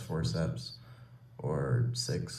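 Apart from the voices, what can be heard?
No everyday noise stands out behind the speech.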